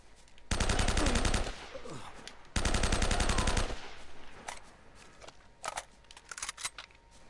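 Two long bursts of rapid automatic gunfire from the video game Uncharted: Drake's Fortune, loud and close with a break between them, followed by scattered fainter shots and game noise.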